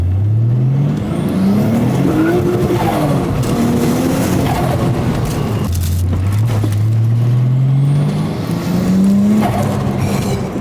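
A car with a built Nissan RB26 engine revs hard and accelerates close by, its pitch climbing through gears in loud sweeps, dipping at a shift near six seconds and then rising again under continuous engine roar.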